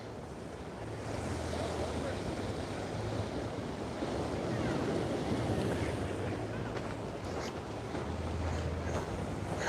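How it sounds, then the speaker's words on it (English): Ocean waves break steadily on the shore at Waikiki, Hawaii, a continuous loud wash of surf mixed with gusty wind noise and faint low rumbles from nearby traffic. "look at those waves out there. Those are breaking really good."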